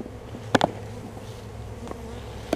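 Bees and wasp-like insects buzz around a bird house, a low steady hum with a few brief close passes flaring louder as individual insects fly near.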